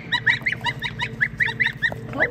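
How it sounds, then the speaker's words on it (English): Young geese, about a week old and penned with a duck and a turkey, honk in a rapid run of short nasal calls close by, with a low farmyard rumble underneath. "Those geese are growing fast"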